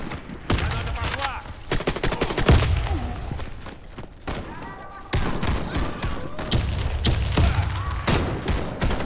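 Gunfire and explosions erupt in a video game match on a hangar map: dense, loud volleys of rapid shots and heavy booms come in long bursts separated by short lulls, with voices faintly underneath.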